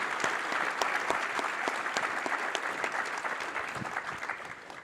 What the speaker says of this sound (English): Can I get a warm round of applause for the three of these individuals?